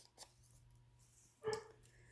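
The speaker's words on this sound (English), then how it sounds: "There goes the puppy." A puppy gives a faint, distant bark and then a louder single yelp indoors, with quiet room tone in between and no talking.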